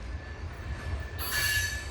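Freight train led by the Green Goblin locomotive with two SD40s hauling 29 loads up a hill, rumbling steadily nearby with a high wheel squeal that grows louder partway through.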